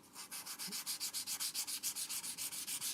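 Guitar frets on a Fender Jaguar are rubbed with 320 grit sandpaper in brisk, even back-and-forth strokes, each a soft, dry scratch, close up and quiet, with no talk.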